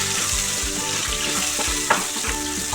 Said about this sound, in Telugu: ఇందులోనే పచ్చిమిర్చి కూడా బాగా ఫ్రై అవ్వాలి